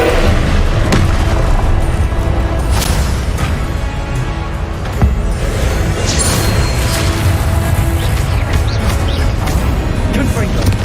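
Blasting Confringo spell explosions from the Hogwarts Legacy video game, loud booming bursts repeating over dense game combat noise, with a player shouting spell names throughout.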